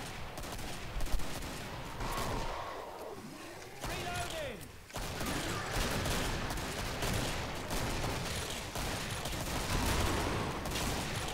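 Rapid bursts of gunfire from husk enemies in the game Killing Floor, repeated shots and crackling fire layered throughout under a commentator's voice and busy game action.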